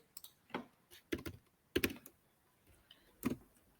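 Keystrokes on a computer keyboard while accounting journal entries are typed in: a handful of quiet, separate clicks and short bursts with brief pauses between them.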